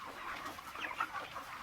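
Some 3,000 broiler chickens in a new cage poultry shed cluck and chirp together as a soft, continuous, fairly distant murmur with occasional sharper calls, no talk.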